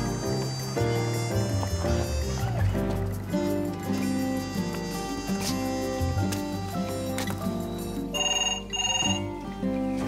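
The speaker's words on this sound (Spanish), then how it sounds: "¡Teléfono!" A telephone rings in a home amid a dense, busy musical bed, its bell-like tone partly masked by music throughout, with no clear speech.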